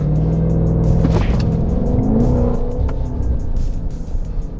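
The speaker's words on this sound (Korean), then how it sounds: "이런 식으로 미친듯이 튀어나가는 런치 컨트롤도 사용할 수 있습니다" A Maserati Levante Trofeo SUV engine, 590 horsepower, revs hard in Corsa mode launch control and then launches, a loud roaring acceleration with rising rumble that stays strong throughout.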